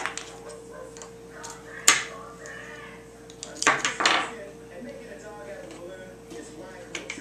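A toy cooking pot being stirred gives a few light plastic clinks and scrapes, with two sharper knocks, while a child and an adult talk in the background.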